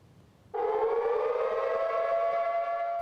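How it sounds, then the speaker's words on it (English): A loud siren at a climate conference starts abruptly and blares at a steady pitch without pause, with no voices over it. "A blaring siren at the start of the day was meant to crank up the pressure on negotiators"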